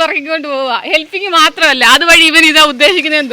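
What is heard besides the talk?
No everyday noise stands out behind the speech.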